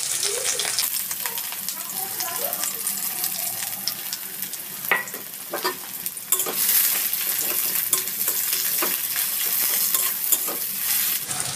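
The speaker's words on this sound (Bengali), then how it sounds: "পেঁয়াজটা আমি একটু লাল লাল করে ভেজে নিচ্ছি।" Onions with green chillies fry in mustard oil in a wok, giving a steady close sizzle with occasional scrapes and knocks from stirring. No one talks.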